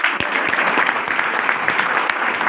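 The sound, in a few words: audience applause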